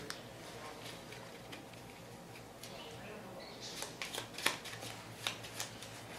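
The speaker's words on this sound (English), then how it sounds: "I'm going to go ahead and shuffle those up." Playing cards are riffled and shuffled in quick, soft bursts, with faint background noise.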